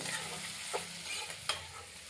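Close, steady sizzle of ingredients frying in a pan for a paneer curry, with a couple of soft scraping stirs of a spoon against the pan and no talking.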